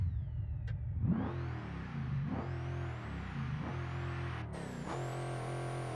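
A modded diesel ETK car with a combined V10 and V8 engine in BeamNG Drive revs repeatedly, its engine note rising and falling in several quick surges, steady and close with no talk.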